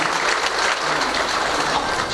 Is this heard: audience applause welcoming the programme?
yes